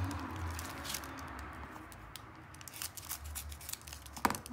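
Three diamond painting packets are opened at once, giving soft crinkling, snipping and tearing of plastic close by, ending in a sharper rip.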